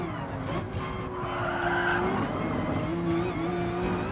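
Racing cars in GT Sport lapping the Green Hell circuit, engines droning loudly and steadily with shifting pitch, tires squealing through a corner, no voices over the din.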